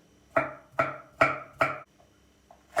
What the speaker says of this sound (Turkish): büyük boy yoksa iki tane ufak havuç doğrayabilirsiniz